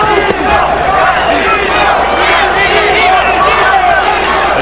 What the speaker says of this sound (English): the chant Castillo, Castillo is a bit half-hearted down the stretch of the 11th